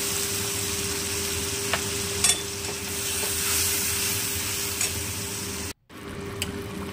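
Mustard-poppy paste is stirred in hot oil for hilsa curry, producing a steady close sizzle with occasional scrapes of the spatula against the pan and a brief cutoff near the end; no one speaks.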